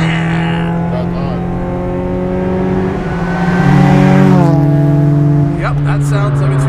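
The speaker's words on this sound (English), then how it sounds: "That sounds like a tuner car." Supercharged Acura Integra Type R engine revving on fresh tarmac, a steady droning note that climbs and surges loudly midway before easing, with a driver talking over it.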